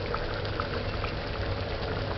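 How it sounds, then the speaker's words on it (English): Brown curried stew of river shrimps simmering in a pot on a stove at medium heat, a quiet steady bubbling and sizzle with soft liquid pops, no talk. "So allow it to simmer."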